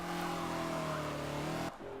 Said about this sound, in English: the 1969 Ford Mustang Boss 302